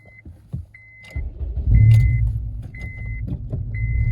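A modified Honda Civic Type R EP3 engine, 250 bhp, cranks and catches, then settles into a loud, rumbling idle up close, with faint intermittent chiming beeps from inside the car.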